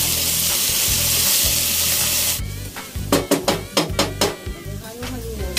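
Ginger garlic paste and chicken pieces fry loudly in a hot pan, a steady dense sizzle that breaks after a couple of seconds into a series of sharp scraping stirs and clanks against the pan.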